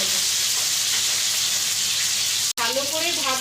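Hilsa fish heads fry in a pan after being turned, a loud, continuous close-up sizzle broken by one brief dropout, after which a wavering voice-like tone rides over the frying.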